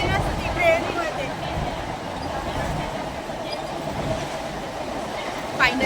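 A moving passenger train rumbles steadily with a continuous low roar and faint rhythmic rail clatter, a brief squeal rising near the end.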